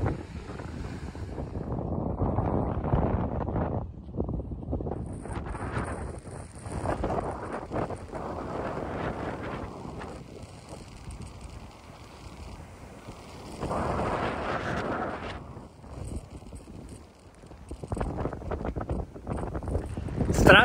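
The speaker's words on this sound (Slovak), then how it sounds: "strašne moc tu fúka" Strong wind at Maroubra beach in Australia buffets the microphone in loud, gusty rumbles that rise and fall throughout, with a voice talking at times underneath.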